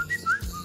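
A weak, thin whistle from a Selver supermarket advert: two or three short, faint tonal whistled notes, slightly wavering in pitch, heard alone over a quiet background.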